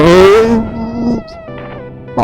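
A motorcycle fitted with a Raider carburetor revs close up and loud, rising then falling in pitch before settling to a steady idle, with a short blip at the end.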